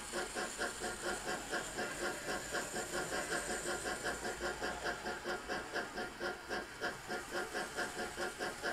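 An N gauge model steam locomotive spins its wheels while hauling two small coaches around a flat track, a faint, steady whirring motor hiss with a quick, regular rhythmic pulse.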